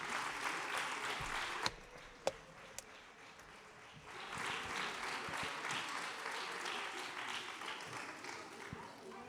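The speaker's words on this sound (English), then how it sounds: "Merci pour vos applaudissements." Audience applause closes a conference, a steady wash of many hands clapping at moderate distance, with a few sharp nearby claps standing out and the sound swelling again midway.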